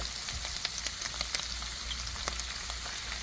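Sausage sizzles in a skillet with a constant crackling hiss, dotted with sharp pops and spatters, close and moderately loud with no talking.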